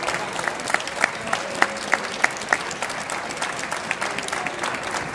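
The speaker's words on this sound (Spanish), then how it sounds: "A ver ese aplauso, ¡ay, hombre!" Audience at an award ceremony applauding, a moderate steady clapping from a small crowd with a few sharper individual claps standing out near the front.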